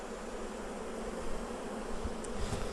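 Honeybees buzzing around an open hive during work on a queenless colony, a dense, continuous close hum of many bees with a few sharper passes near the end.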